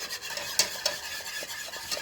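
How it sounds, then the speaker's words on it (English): A utensil stirs white gravy in a pan, making a steady scraping swish with a soft sizzle underneath and a couple of sharper clinks against the pan. "Give it one more good stir."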